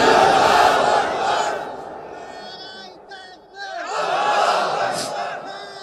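A crowd of young men at an outdoor religious sermon gathering in Kaliganj roars a takbir chant in unison, loud and massed. Their shout fades, a lone voice calls briefly, then the crowd shouts back again.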